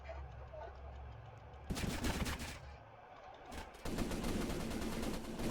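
Rapid bursts of automatic gunfire in the game SCP Breach. Two loud, dense rattling volleys come close together, the second one sustained, over a quieter background hum.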